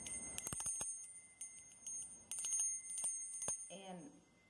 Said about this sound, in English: So I'm just going to clear our space with sound from the bell now.